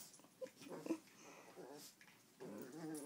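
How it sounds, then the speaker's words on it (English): A dachshund and a Maltese, rat terrier and Chihuahua mix play together with soft growls, yips and whimpers, faint and close, in short bursts. "Shoshana Dachshund playing with Jersey, Maltese, Rat Terrier, Chihuahua"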